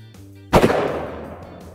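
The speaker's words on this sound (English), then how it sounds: "Check it out after I shoot." A single rifle shot fired at an outdoor shooting contest, a sharp loud crack with a reverberating tail that fades over about a second, preceded by faint background hum and no speech.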